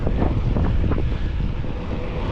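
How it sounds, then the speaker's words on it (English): Strong gusting wind buffets the microphone on a mountain bike ride in the Peak District, a loud continuous low roar with no voices. "Bit windy though."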